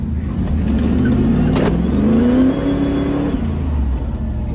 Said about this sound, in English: I can't tell if that was clutch or tire. No, that was tire. It was one wheel peel.